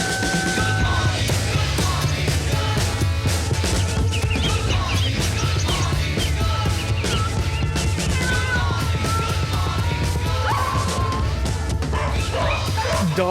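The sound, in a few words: chicken sound in a song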